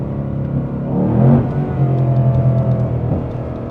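A 2025 Ford Mustang Dark Horse engine revs and accelerates steadily through a turn, a loud sustained drone rising in pitch then holding, heard from close by.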